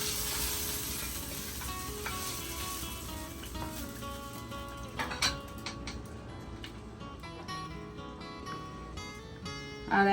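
Garlic fries in a pan for chicken haleem, a soft, quiet sizzle with scattered light ticks and crackles, plus occasional clinks of cookware; no talking.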